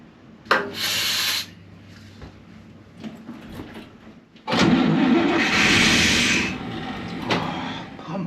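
A small engine with a faulty carburetor is yanked with a pull cord, giving two loud rasping bursts of cranking, a short one early and a longer one later, with quieter clunks and rattles between them.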